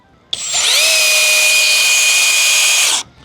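A cordless hammer drill spins up sharply and runs at a steady high-pitched whine for nearly three seconds, then cuts off abruptly.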